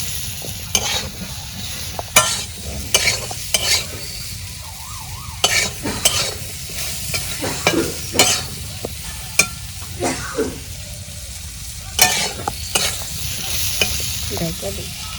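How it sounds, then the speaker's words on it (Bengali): Sliced pointed gourd (potol) fries in a pan, giving a steady oily sizzle broken by repeated sharp scrapes and clacks of a spatula stirring, close and fairly loud, with no voices. "আর আমার পটল ভাজা কীরকম হয় আপনারা সাথে থাকেন"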